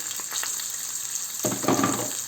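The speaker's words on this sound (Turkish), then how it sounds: "Kızartacağız. Tamamen kızartacağız." Steady frying sizzle of drained rice and vermicelli in a pan, close up, swelling louder partway through as the food is stirred and added.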